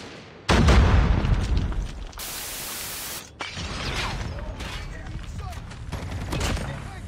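A bomb goes off in Call of Duty Mobile gameplay: a loud, sudden blast followed by a long rumbling, noisy roar that fades into continued battle clatter and scattered impacts.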